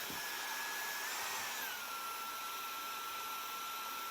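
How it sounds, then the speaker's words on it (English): Handheld hair dryer running steadily on its lowest speed setting with the heat off, a close, constant airy whoosh with a high whine that dips slightly partway through, with no talking. "I've got my hairdryer on speed 1 with no heat, and there you just blow dry it in."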